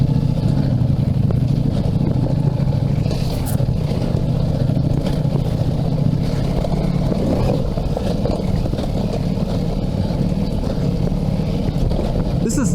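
A 2022 Ducati Multistrada V4S ridden off-road over bumps, its engine blending into a loud, steady roar of wind and motor with occasional small knocks, close and continuous throughout.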